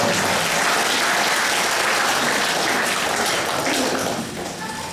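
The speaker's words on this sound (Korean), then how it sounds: "이분들한테도 박수를 보내주시죠." Audience applause for Korean and Vietnam War veterans at a public talk, broad and sustained, many hands clapping steadily and fairly loud, tapering slightly near the end.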